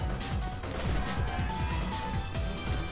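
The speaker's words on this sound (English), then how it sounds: "I hear glass breaking." Glass smashing in a video game, a crashing burst of shattering layered over loud game music that runs continuously throughout.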